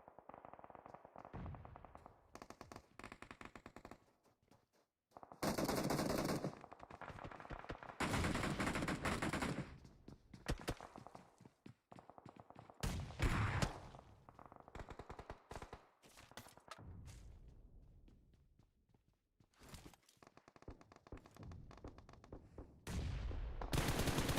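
Video game gunfire rings out during a competitive scrimmage in bursts of rapid automatic fire and sharp shots, loud and close, broken by short quiet gaps across the whole stretch.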